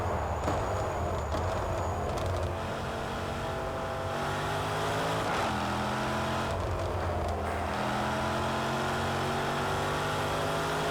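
Race car engine in the Project Cars 2 video game, driven with a steering wheel at Cadwell Park, revving up and down through gear changes and corners, loud and continuous throughout with no voices.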